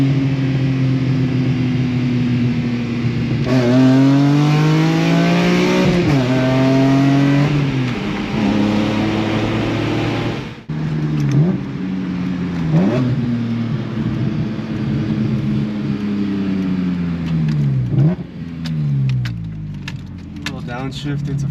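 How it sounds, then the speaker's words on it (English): A 2005 BMW E46 M3 coupe engine, loud and close, drops through downshifts with sharp rev blips, then settles into a low rumbling burble at idle, with a voice talking over it. "Downshifts. Let it burble a little."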